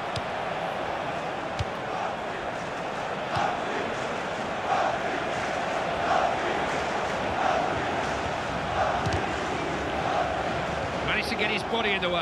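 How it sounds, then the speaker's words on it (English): Stadium crowd noise in a FIFA football match between Switzerland and Turkey, a steady loud roar after a Swiss goal, with a commentator talking over it. "Just listen to the crowd."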